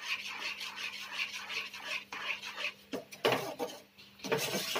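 Scraping and rubbing of a spoon stirring a thick sugar mixture for seven cup burfi in a pan, steady and close, with a few louder scrapes toward the end.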